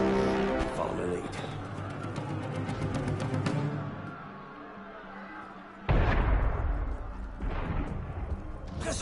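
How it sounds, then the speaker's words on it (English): Booming cannon blasts in Assassin's Creed: Unity, a dense volley of heavy shots followed by rumbling, then a fresh loud burst after a brief lull. "That was cannon fire."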